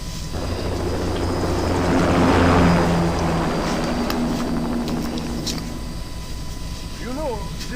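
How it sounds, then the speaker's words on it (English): Aircraft engines roar as a craft lifts off in Metal Gear Rising: Revengeance, a loud, swelling drone that peaks and then fades, with voices speaking over it near the end. "Commencing takeoff in semi-auto mode."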